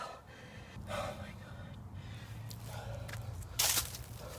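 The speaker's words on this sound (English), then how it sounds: "My apologies for the heavy breathing." Heavy, labored breathing from someone winded after hiking a trail, with gasps and sharp breaths repeating close to the microphone and a louder burst near the end.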